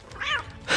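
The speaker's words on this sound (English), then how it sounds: "Now you just sit here and meow 25 times." A cat meows once in the video game Injustice: Gods Among Us, a short, clear, close meow with a rising, wavering tone, followed by a brighter noisy burst of game sound.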